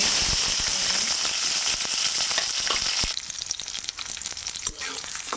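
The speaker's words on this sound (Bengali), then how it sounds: "এখন আমি যে পেঁয়াজ কাঁচামরিচ দিয়ে দিব।" Sliced onion and green chili hit hot oil in a pan, a loud dense sizzle that crackles steadily, then settles to a lighter spitting fry with a few stirring clicks, close up and without talk.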